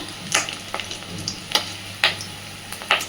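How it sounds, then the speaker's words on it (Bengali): Fish roe fritters frying in hot oil, flipped one by one: a soft sizzle runs throughout while a few sharp spatula clicks and scrapes land at irregular intervals, close by, with no talking. "আস্তে আস্তে বড়াগুলোকে এবার উল্টে দেব।"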